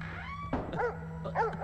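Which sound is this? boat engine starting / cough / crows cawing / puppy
puppy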